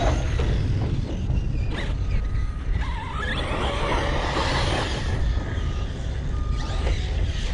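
Redcat Kaiju RC monster truck driving and jumping. Its electric motor drones loud and close, with a constant wash of rolling and rattling noise throughout.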